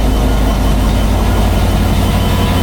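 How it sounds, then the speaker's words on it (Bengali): A heavy train engine drones loud and steady at close range, heard from inside the train, a constant low rumble with no breaks. "এগুলো হইলো ট্রেনের ইঞ্জিন"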